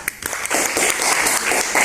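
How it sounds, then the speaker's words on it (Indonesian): A class claps after a group presentation on funeral rites. The applause is brief and fairly loud, with a dense patter of hands close by. "Oke, tepuk tangan"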